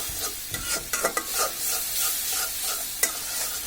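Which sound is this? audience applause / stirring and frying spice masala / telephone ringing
stirring and frying spice masala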